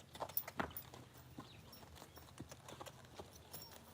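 A mare's hooves clop faintly on a stable floor in scattered, uneven steps, soft and somewhat distant, with no voices over them.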